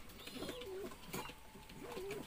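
Pigeons kept for racing coo softly nearby in two or three low, rolling calls, with quiet ambient noise between them.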